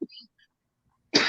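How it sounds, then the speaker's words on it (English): A person coughs in a quiet room during a live stream: a short, sharp cough at the start, followed by near silence, then a louder, harsher burst near the end. "I was just coughing a little bit"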